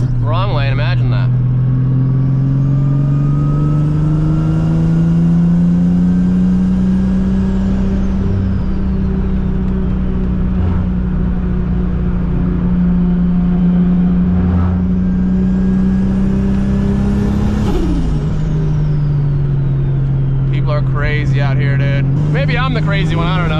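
A Nissan 300ZX project car with a swapped 2JZGTE engine cruises on the road, its loud steady engine drone rising and falling with throttle changes throughout, with people talking over it.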